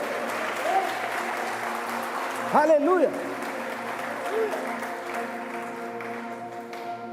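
Congregation applauding at an evening church service, steady clapping throughout with a voice shouting praise over it and musical tones sustained underneath.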